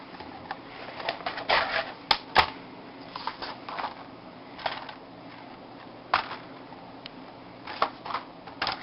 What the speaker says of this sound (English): So here's where your little scrapbook paper cutter comes in.